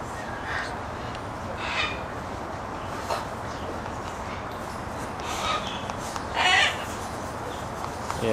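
Exotic parrots squawk with a few harsh, bright calls, the loudest near the end, over a steady background hum with no talking.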